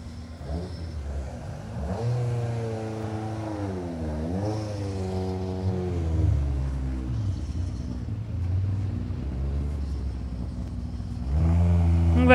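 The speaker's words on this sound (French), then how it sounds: "Voilà, vous les entendez, ces moteurs." Historic rally cars at the Tour de Corse historique in a village square rev their engines, with rising and falling revs and a deep rumble. Engine notes overlap and swell, then grow louder at the end.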